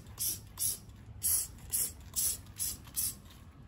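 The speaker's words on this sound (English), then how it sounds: "It's important to spray on it evenly so you will not get patches later on." A hand spray bottle of bleach mists onto a fabric lampshade in seven short, evenly spaced hissing bursts, close and fairly quiet.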